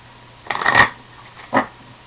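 Tarot cards being shuffled by hand in two brief bursts, the first a longer riffling flurry and the second a short flick a moment later, fairly close and with no talking over them.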